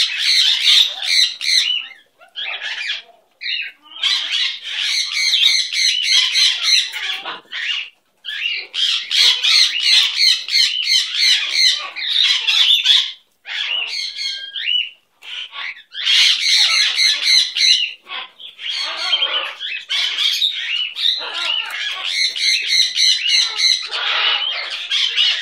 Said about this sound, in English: You are such a handsome bird.